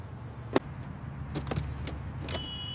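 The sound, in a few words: car failing to start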